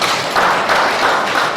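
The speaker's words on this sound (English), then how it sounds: "I think we can clap for ourselves for that." A forum audience at a national trade event claps in a steady, dense burst of applause that fills the short moment at moderate loudness, with no talk on top.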